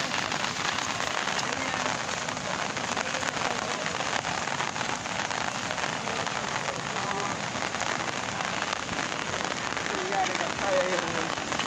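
Heavy rain pours during a flood in Laos, a loud, steady, dense patter and hiss with scattered crackling drops that continues without a break.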